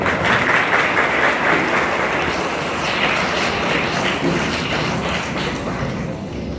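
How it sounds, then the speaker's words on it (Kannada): Audience applause welcoming a guest at a village birthday celebration for a progressive farmer, dense sustained clapping from a crowd, loud and close, tapering slightly toward the end. "ಬಬಲಾದಿಯ ಶ್ರೀಗಳಿಗೆ ಎಲ್ಲರೂ ಚಪ್ಪಾಳೆ ಹಾಕಿ ಸ್ವಾಗತ."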